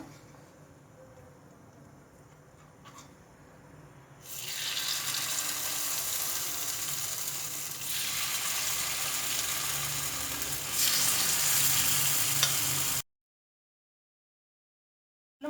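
Rava appe batter sizzles steadily in an oiled appe pan, a loud continuous hiss that swells in stages and then cuts off abruptly to silence.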